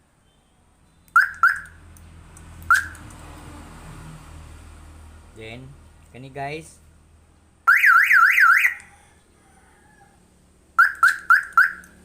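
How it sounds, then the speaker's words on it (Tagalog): A car alarm module wired into a vehicle's power lock system chirps and sounds: several short chirps, a warbling siren burst, then a quick run of chirps, with someone talking between them. "car alarm."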